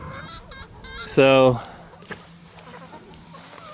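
Loud honking squawk from an escaped chicken, about a third of a second long, stands out near the middle, with a voice talking and faint clucking before and after.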